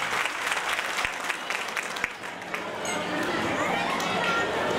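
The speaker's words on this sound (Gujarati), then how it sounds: "આપ જોરદાર તાળીઓ વધારજો." An audience at a community get-together in Badargadh claps loudly and steadily for several seconds, a dense crowd applause with some voices mixed in.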